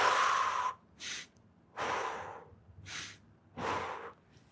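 Deep breaths in and out during a lower body mobility stretching workout, close and fairly loud, alternating long breathy exhales and shorter inhales in a slow even rhythm, no talk.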